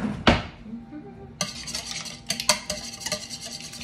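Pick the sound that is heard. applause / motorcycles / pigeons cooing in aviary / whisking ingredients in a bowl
whisking ingredients in a bowl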